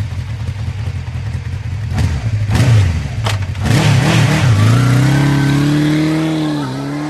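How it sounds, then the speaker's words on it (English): A loud engine revs and accelerates, its pitch climbing and holding steady as a vehicle roars close by. "Motorcycle."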